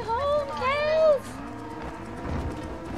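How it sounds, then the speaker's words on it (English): Cattle mooing while being herded in Red Dead Redemption, two or three long, drawn-out lowing calls close by, followed by a rumble of movement and faint hoof sounds. "Go, cows, go! Yeah! Getting you home, cows!"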